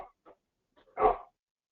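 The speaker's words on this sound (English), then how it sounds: "we got the dog barking" A single dog bark, loud and close, cutting through an otherwise quiet room after a few faint brief sounds.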